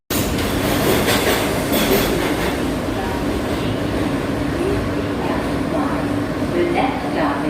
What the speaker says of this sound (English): This is a Coney Island, Stillwell Avenue bound F local train.